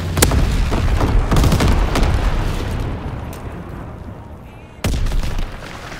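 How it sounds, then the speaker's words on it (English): Loud explosions from an incendiary bomber strike in a Call of Duty WW2 Domination match, several heavy booms and blasts early, a rumbling tail, then another sharp blast near the end. "Low altitude bomber inbound. Dropping incendiary."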